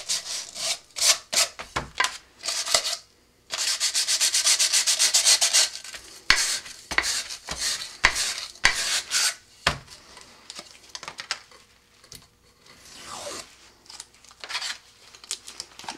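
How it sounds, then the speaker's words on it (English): Sandpaper of 120 or 150 grit rubs against the inside of a cardboard-like rocket body tube, producing bursts of rough, scratchy back-and-forth scraping, some quick and choppy, one longer steady stroke, close and loud with brief pauses. "sanding those off with 120 or 150"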